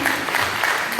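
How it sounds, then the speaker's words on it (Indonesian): Brief burst of indoor applause from a group at a library coordination meeting and e-library launch, steady clapping throughout with faint voices beneath. "Tepuk tangan."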